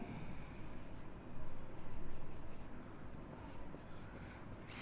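Chalk or marker scratches across a board in a classroom physics lesson, a continuous faint scraping with slight surges in intensity over a quiet room background.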